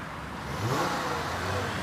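A car engine revs up briefly at close range, its pitch rising in one moderately loud surge before settling back to a steady hum.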